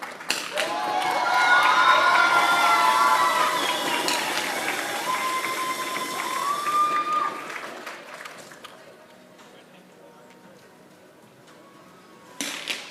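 Crowd cheering and applauding at a 50m rifle three-positions shooting world cup final in Bhopal, India. A loud, sustained cheer with whoops rises, then fades to quiet, with a brief burst of clapping near the end.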